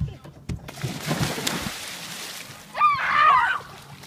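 People running together into cold lake water at 59 degrees during a springtime ice-breaker plunge on Lake Wylie, with splashing and sloshing under shouts and excited voices, a louder burst of splashing and squeals near the end.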